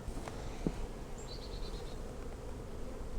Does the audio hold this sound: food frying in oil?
no